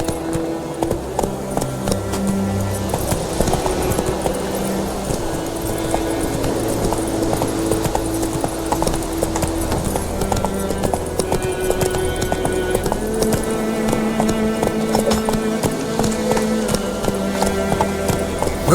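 A horse gallops steadily in The Witcher 3, its hooves clip-clopping in a fast, continuous rhythm over a game music score for the whole stretch.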